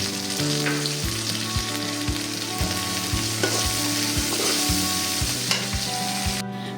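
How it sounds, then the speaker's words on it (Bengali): Sliced and chopped garlic, green chilli strips and ground spices frying in a pan, a steady close sizzle with repeated low scraping stir strokes throughout, no voices. "রসুন কুচি, কাঁচামরিচের ফালি সহকারে সমস্ত গুঁড়া মশলা"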